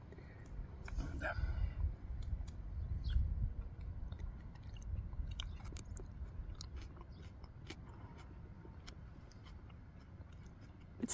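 Someone chews mustard-flavored garden leaves with soft, wet crunching and munching, quiet and close, with a few small clicks and background rustle.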